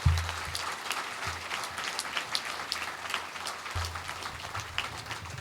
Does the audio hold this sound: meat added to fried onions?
no